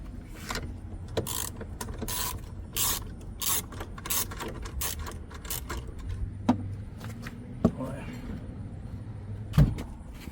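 Ratchet wrench loosening a 10 mm nut on a BMW X battery terminal, a series of quick clicking ratchet strokes at close range with brief pauses, over a low steady background hum.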